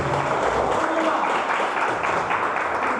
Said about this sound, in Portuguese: Pode aplaudir o nome dele nesta noite